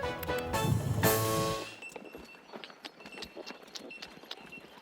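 Horse hooves clip-clop in a quick, irregular series of sharp taps at moderate distance, following a louder burst of noise at the start.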